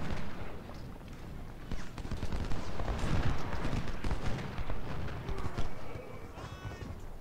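Rifle volleys and booming artillery crackle and thump in an American Civil War strategy game's battle at Second Bull Run, irregular bursts of distant and nearer gunfire layered over a rumbling battlefield din.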